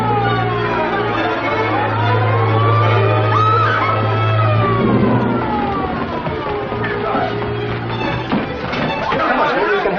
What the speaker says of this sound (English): It's a siren. Probably an ambulance or a police car.